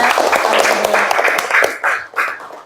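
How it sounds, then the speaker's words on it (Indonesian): A school class of pupils applauding together in a classroom, a dense burst of clapping that is close and loud, thinning out toward the end. "Tepuk tangan dulu untuk semuanya"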